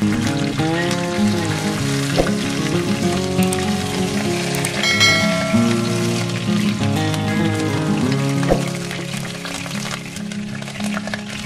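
Chicken frying in oil in a large pan, a continuous dense sizzle and crackle with occasional clinks, no talking.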